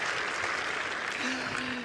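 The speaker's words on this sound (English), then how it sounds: "Coach leading the applause" Crowd applause at a women's tennis final between Kasatkina and Keys at Eastbourne, steady, moderately distant clapping filling the stadium, with a faint tonal hum entering partway through.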